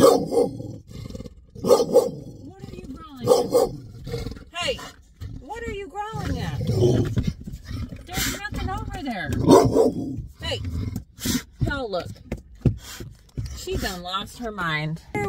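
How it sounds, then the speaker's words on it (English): A dog barks repeatedly in bursts with some growling, close by, while a person talks to it over and between the barks. "What are you barking at?"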